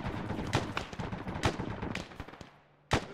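Bursts of gunfire aimed at enemy fighters in a military video game, several sharp volleys spaced through the clip with a brief lull before a final loud shot.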